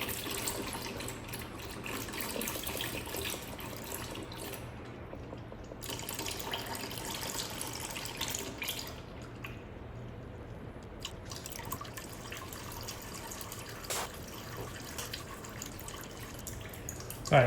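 Engine oil draining from a Ferrari F430 during an oil change, a continuous splashing trickle of liquid into a pan, fairly close and steady with brief dropouts, without talking.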